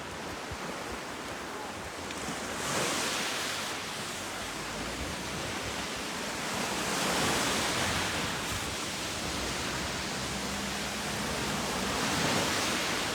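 Sea waves wash onto a crowded Sicilian beach in mid-September, a steady broadband surf with slow swells rising and falling, mixed with wind noise over the microphone and no clear voices.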